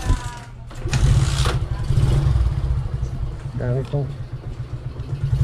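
A stalled motorcycle in a rusty, primer-coated frame is kick-started, its engine sputtering and turning over with a low rumble while people talk nearby.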